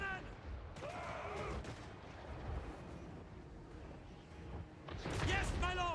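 Great cannon artillery booming on a Total War: Warhammer III battlefield, heavy low blasts rolling under constant battle din, with shouted unit voice lines layered over the fire.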